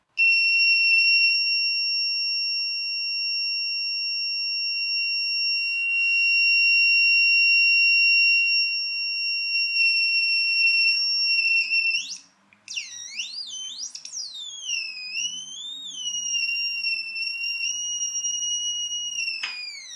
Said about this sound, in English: a quick buzzer circuit using the speaker out of the LiPo alarm